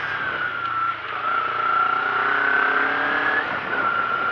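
A Kawasaki Ninja 250 engine drones steadily up close, its aftermarket exhaust fitted with a dB killer holding a smooth, muffled tone with a slight rise in revs partway through.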